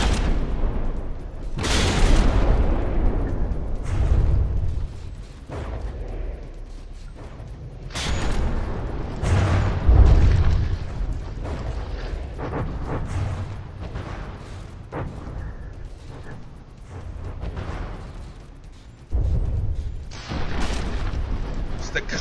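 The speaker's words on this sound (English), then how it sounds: "Constant stream of shells from the Augustin coming in, many of them missing" Naval video game battle with warships trading gunfire, including a battleship firing a steady stream of shells. Booming cannon shots and shell impacts rumble repeatedly at close range, layered under continuous commentary.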